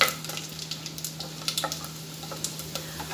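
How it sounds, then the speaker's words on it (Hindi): Vegetables fry and sizzle in a pan for veg biryani while being stirred, a continuous close hiss broken by regular light scraping taps of the spoon, with no voices. "उसे हल्का सा भून लूंगी ब्राउन होने तक"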